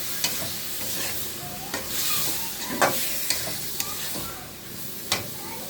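Spiced chicken and potatoes stir-fried in a pan, a steady sizzle broken by sharp scrapes and clinks of the spatula against the metal, close and loud, with no talking over it.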